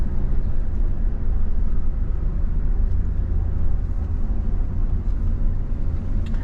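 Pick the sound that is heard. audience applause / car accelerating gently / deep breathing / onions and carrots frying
car accelerating gently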